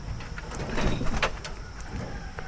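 Pigeons in a pigeon house give soft, low cooing, with fluttering and some shuffling bumps nearby and a faint background hum.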